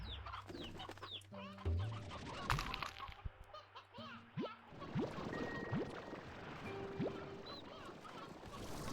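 Chickens and a rooster cluck and squawk in the video game Slime Rancher 2, a busy, overlapping flurry of calls mixed with electronic game tones and effects.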